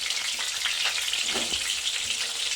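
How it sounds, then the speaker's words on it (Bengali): Potatoes fry in oil in a wok, giving a steady, close sizzle with dense crackling throughout and no voices. "সেই আলুগুলো ভেজে নিচ্ছি।"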